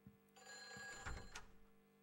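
A telephone rings in the game Silent Hill 4: The Room, a single long electronic ring that holds for about a second, quiet but clear. Low thuds sound around it.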